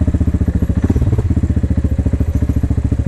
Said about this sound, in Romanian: ATV-ul merge în frână de motor.